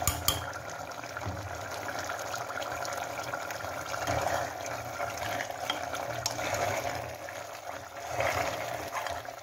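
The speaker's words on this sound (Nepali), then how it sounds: "र म अब यहाँनिर अदुवा लसुन" Ginger and garlic frying in a pan of onions for a Nepali local chicken curry gravy, a steady watery sizzle and bubbling that holds throughout with small swells, with no talking.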